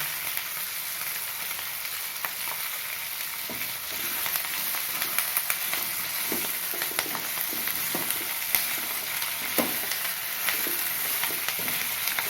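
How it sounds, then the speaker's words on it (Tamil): Drumsticks sauté in an oiled pan with a steady bright sizzle, broken by soft clicks and taps of stirring, continuous and moderately close with no talk. "இப்போ முருங்கைக்காயை சேர்த்து வதக்கணும்."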